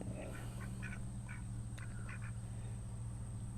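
Swedish Blue ducks quack in short bursts over a steady low hum and a high whine, several calls scattered through the clip at moderate distance.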